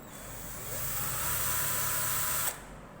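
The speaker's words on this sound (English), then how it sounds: "I've got my tapered bit in there with the drill in reverse" A power drill running in reverse with a tapered bit, tapering holes in an electric baritone ukulele, whirs steadily for about two seconds, ramping up then cutting off abruptly, leaving a faint hiss.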